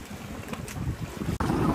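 Wind buffets the microphone on Banana Island near Coron, a steady breezy rush with low gusty rumble and a brief dropout near the end, no voices.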